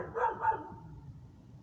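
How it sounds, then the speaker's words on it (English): A neighbor's dog barks twice, muffled and some distance away, heard through an open glass door, followed by quiet room tone. "my neighbor's dog is barking"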